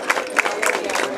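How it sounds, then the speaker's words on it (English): Crowd applause at a parade breakfast, a short burst of steady mixed clapping from a roomful of people, fairly near and continuous. "if you would acknowledge them with a round of applause"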